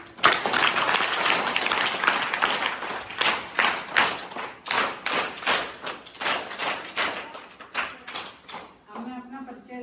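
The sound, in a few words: audience applause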